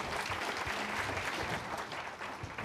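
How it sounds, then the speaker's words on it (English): An audience of attendees at a talk on preventing elder investment fraud applauds warmly, a dense, even patter of many hands that eases slightly toward the end. "So give everybody applause."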